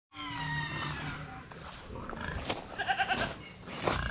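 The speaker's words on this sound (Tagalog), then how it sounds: "Ito naman yung alaga kong kambing mga kasinag." A pet goat gives a drawn-out, wavering bleat close by, followed by shorter rough calls and rustling on a farm.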